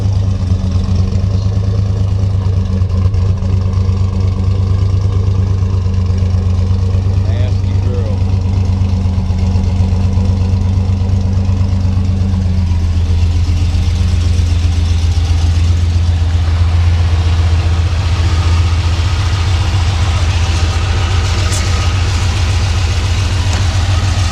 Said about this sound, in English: This old Dodge, that's a stage 2 318.